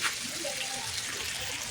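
Water is poured into a pan of chicken adobo while it cooks, a short, soft, steady splashing pour close to the microphone.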